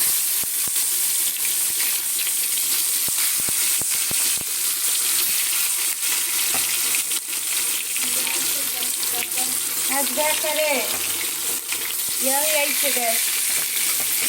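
Meat seasoned with salt, turmeric and chili powder sizzles and fries loudly and steadily in a hot pan, with occasional stirring scrapes and a few faint voices in the background.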